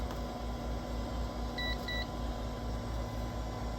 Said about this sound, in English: We're going to lock that down and then hit our timer.